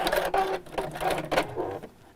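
A sewing machine stitches straight across a woodland pouch bag in several quick rhythmic bursts of rapid mechanical chatter, close and clear, with short pauses between runs and no talking.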